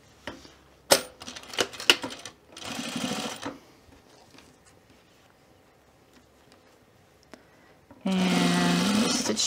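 A home sewing machine stitches zipper binding on a fleece pullover, with a short buzzing run, then handling clicks and quiet pauses, then a steady close run of rapid stitching at the end.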